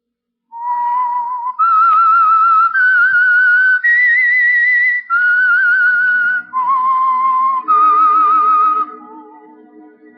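A loud, clear whistled melody of about eight sustained notes stepping up and down, the theme of the radio program The Whistler, with a soft musical accompaniment trailing in at the end.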